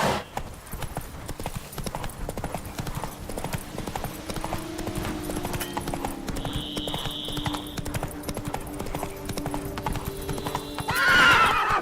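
Roach the horse gallops in The Witcher 3 with a steady, rapid run of hoofbeats across the whole stretch, a short whinny near the end, and game sounds faintly underneath.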